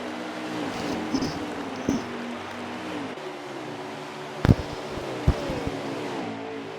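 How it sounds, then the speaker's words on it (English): Racing truck engines from the NASCAR Heat 4 truck series at ISM drone steadily with layered harmonic tones, a constant near roar broken by a few sharp thumps around the middle and later. "I love the sound that these trucks make off the wall. Just the reverb of the motors."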